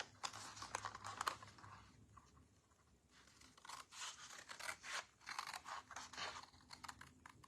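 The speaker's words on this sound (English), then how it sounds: "I'm gonna cut these 3 boxes out." Scissors snip through cardboard while treat boxes are cut out, giving quiet, close bursts of crisp cutting and rustling separated by brief pauses.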